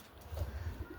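Pigeons in a racing loft coo in soft, low throaty murmurs, several short close calls over a faint steady background hum.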